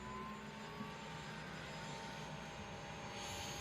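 Helicopter rotor spinning up in a VR flight simulator, heard as a steady whining turbine and rotor drone that holds even throughout and is moderately close.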